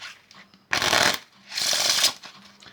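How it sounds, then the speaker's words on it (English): Two quick riffle shuffles of playing cards, each a dense burst of rapid flapping clicks about a second long, with brief quiet between. "You will give them another riffle shuffle."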